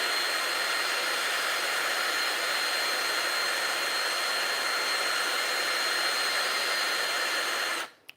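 Sandpaper spinning in a drill chuck to sand a fishing rod during a repair, a loud, steady whirring hiss that runs unbroken for several seconds before cutting off abruptly.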